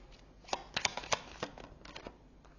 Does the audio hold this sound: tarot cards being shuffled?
yes